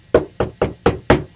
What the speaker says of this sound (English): Then one evening, a loud knock